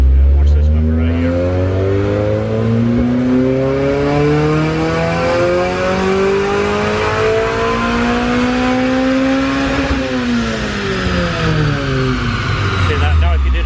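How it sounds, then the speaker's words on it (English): A Honda Civic Si engine on a dyno revs hard through a full gear run, pitch climbing steadily for several seconds then dropping as it lets off, loud and close with a voice briefly over it. "we're going to take it back, put it back on the dyno"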